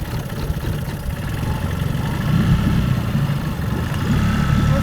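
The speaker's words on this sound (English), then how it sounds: "Have faith in your Yamaha." A Yamaha outboard boat motor starts and rumbles steadily nearby, its low engine drone growing slightly louder and rougher partway through, with no talking.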